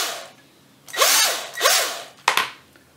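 A countersink bit drills into material while building a DIY loudspeaker, giving three short whirring bursts with pitch that sweeps up and down, the last one brief, with quiet gaps between and no talk.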